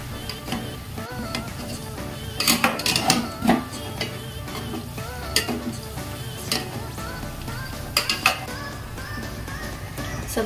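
Soya chaap frying in a pan over a medium flame, a steady close sizzle with scattered clinks and scraping of a utensil against the pan.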